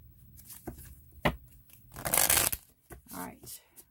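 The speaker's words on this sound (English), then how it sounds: "one more card, one more shuffle." Tarot cards are shuffled in a few quick riffling and slapping bursts, the loudest flurry in the middle, close to the microphone, with a voice talking between the shuffles.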